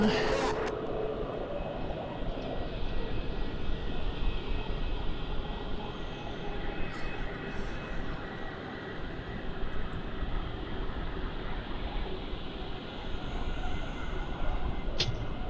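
A Boeing 747 taking off at Melbourne Airport, a constant broad roar of jet engines heard from a distance, with people speaking over it now and then.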